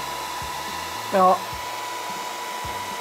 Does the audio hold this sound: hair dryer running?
yes